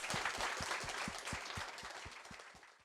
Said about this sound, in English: Another round of applause for all of our presenters.